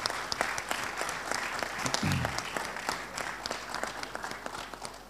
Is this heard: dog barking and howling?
no